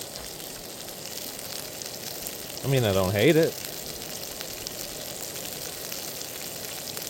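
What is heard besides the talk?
food sizzling in a frying pan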